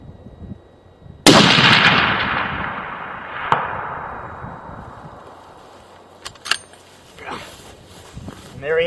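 A long-range rifle fires at a 10-inch steel target 600 yards away: one sharp, loud shot with a long rolling decay, followed about two seconds later by a faint, distant metallic ping.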